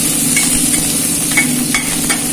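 Chana dal, garlic cloves and dried red chillies fry in hot oil with a steady close sizzle, broken by a few soft scraping stirs, with no voices.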